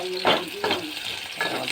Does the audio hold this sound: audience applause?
no